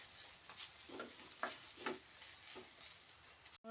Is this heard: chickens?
no